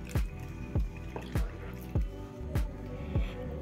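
Tamarind is squeezed and mixed by hand in water, giving a steady series of wet squelching squishes, about one every half second, close and fairly quiet.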